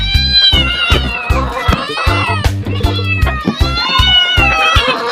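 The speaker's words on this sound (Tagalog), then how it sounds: "Ayun, magpakain tayo mga pusa mga idol." Several cats meow insistently and overlap at feeding time, loud and close, with repeated pleading cries and a continuous low purr or rumble beneath them.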